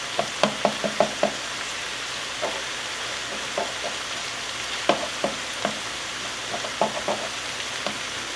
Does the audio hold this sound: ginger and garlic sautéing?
yes